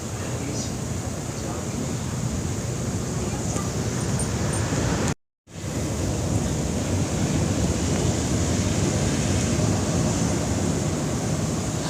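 Ocean surf rolling onto an Outer Banks beach, a steady broad wash of breaking waves with wind buffeting the microphone, continuous and fairly close, interrupted by a brief dropout midway.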